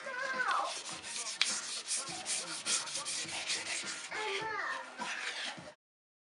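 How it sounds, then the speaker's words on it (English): Sandpaper rubs back and forth by hand across a wooden guitar body in a luthier's shop, a close, steady scratchy rasp that runs continuously and then stops abruptly. "You don't have to sand really hard, you just have to, you know, go over it in a couple spots,"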